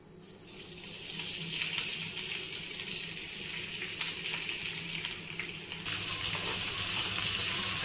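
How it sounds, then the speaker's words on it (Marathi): Onion frying in a teaspoon of oil for a spice paste gives a steady, close hiss and sizzle that holds for several seconds and grows slightly louder near the end, with no talking over it. "कांदा लालसर होईपर्यंत आपण हा परतून घेऊया।"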